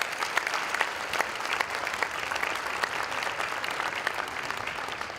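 Audience applause for school principals at a 5th grade band concert, a steady dense patter of many hands clapping throughout, moderately loud and even with no voices on top.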